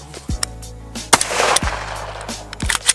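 An AR-15 rifle fires a handful of loud, sharp, close gunshots at irregular intervals, each with a brief ringing tail.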